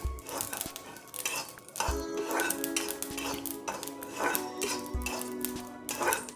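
Brinjal curry stirred in a metal pan with a spoon, bringing repeated clinks and scrapes of utensil on metal over a steady frying sizzle, near and fairly loud, no talk.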